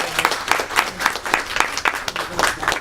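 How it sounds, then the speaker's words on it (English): Audience applause at a summer session gathering, a steady patter of many hands clapping close by, dense and even for a few seconds with no voices over it. "everybody give Ash a round of applause"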